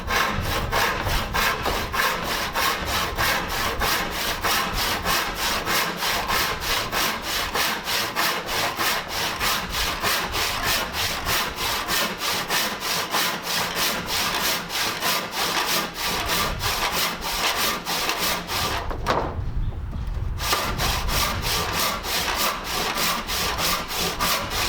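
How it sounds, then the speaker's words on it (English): A D8 hand saw with 8 points per inch rips through wood in a steady rapid rhythm of back-and-forth strokes, close and loud, with one brief pause near the end; no voices. "I really do like this D8. At 8 points per inch, it just sings through this wood."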